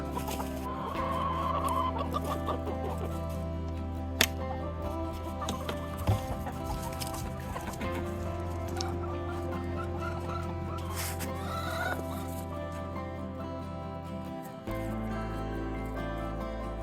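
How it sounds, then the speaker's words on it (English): Hens cluck and murmur inside a backyard chicken coop lined with sand and diatomaceous earth, close and continuous, with occasional sharper bawks over a low steady background hum. "Snapdragon's one of my OG chickens"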